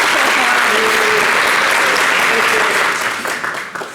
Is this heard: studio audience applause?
yes